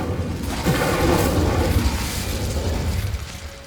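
Spell explosions cast in Hogwarts Legacy, a dense barrage of booming blasts and bursts layered over game effects, loud and continuous with no clear gaps between impacts.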